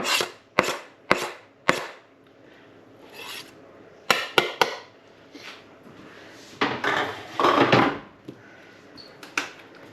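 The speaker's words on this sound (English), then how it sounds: "Gonna put 3 cloves of garlic in there, chopped up real fine." Garlic cloves chopped finely with a knife on a board for meatballs: close, crisp thuds in scattered single strikes, then a denser run of rapid chopping and scraping near the end, with no one talking.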